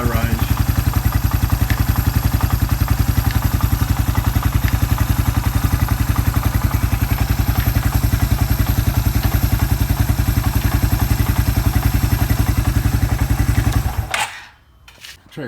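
A restored Suzuki Quad Runner 250 ATV runs close by, its engine and exhaust putting out a loud, steady, rhythmic chug for about fourteen seconds before cutting off abruptly.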